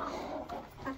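Jumbo Cornish Cross meat chickens, twelve weeks old, clucking and murmuring in a dense, close cluster of overlapping farm-bird sounds with no clear gaps.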